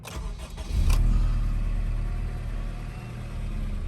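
An Integra Type R engine, already warm, cranks and catches, then settles into a steady, deep idle rumble close by.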